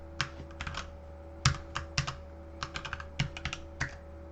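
Code is typed on a computer keyboard in short bursts of sharp, close clicks with brief pauses between, over a faint steady electrical hum, with no talking.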